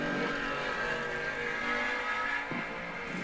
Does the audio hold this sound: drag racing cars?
yes